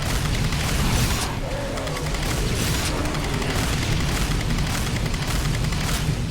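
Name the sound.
underbarrel grenade launcher firing in Doom mod (video game)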